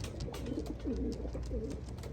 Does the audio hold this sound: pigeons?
yes